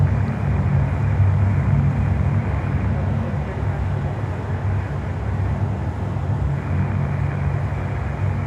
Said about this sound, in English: These are all runway 27 takeoffs.